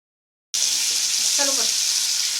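Besan methi sabzi frying in a pan: a steady, close sizzle starts abruptly after a short silence and continues evenly, with a brief faint voice partway through.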